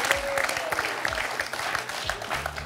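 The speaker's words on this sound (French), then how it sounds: "Bravo, on peut applaudir Mathilde pour son très beau parcours." Studio audience applauding on a French TV quiz show, a steady dense wash of clapping that carries evenly through the whole stretch with a few voices faintly mixed in.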